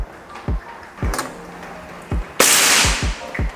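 An SR Stainless Series air rifle being fired: several sharp, close pops spaced out over a few seconds, with one louder burst of hissing release partway through.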